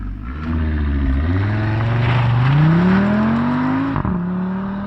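An Audi RS Q3 Sportback engine revs up through rising harmonics, climbing steadily in pitch, then briefly drops and settles into a lower drone; loud and close, no talking.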